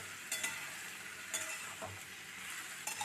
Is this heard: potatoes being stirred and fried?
yes